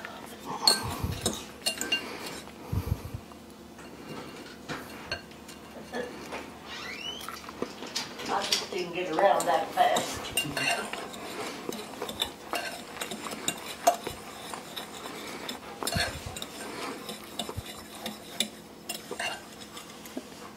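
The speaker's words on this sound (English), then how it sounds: "To that, I'm going to add 1/4 cup of sugar. And I'm going to stir that around a little bit." Ground graham crackers and sugar stirred together in a bowl for a cheesecake crust, quiet scattered clinks and scrapes of a utensil against the bowl with soft rustling, faint and irregular throughout.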